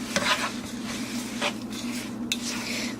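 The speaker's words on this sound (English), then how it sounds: "We're going to stir." A coconut and sugar mixture being stirred in a pot, soft scraping strokes over a low, steady simmering hiss with an occasional light knock of the spoon, close and quiet, no talking.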